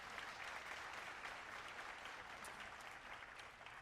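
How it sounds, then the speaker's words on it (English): Audience applause at a South Carolina African American History Calendar unveiling ceremony: sustained clapping from a crowd, steady and fairly distant, with no talk over it. "that's worth a round of applause"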